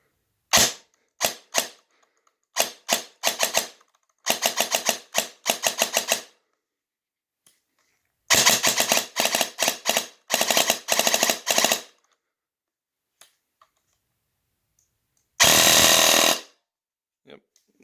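An airsoft DSG Vector gun powered by a Titan battery fires loud, sharp bursts close by, with rapid single shots and short strings of fire separated by silence, then one sustained fast burst.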